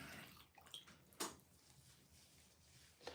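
Water sprayed or poured onto wet curly hair during detangling, a few soft close splashy bursts with a louder spritz near the middle, quiet and without talk.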